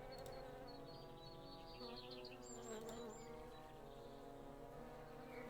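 Bees buzz in a Carol Reed Mysteries point-and-click game scene, a soft continuous droning hum with wavering tones drifting up and down, fairly quiet and heard alone without talk.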